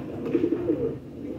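Pigeons close by give a short, soft burst of low cooing, a few rolling notes over a dull background hum.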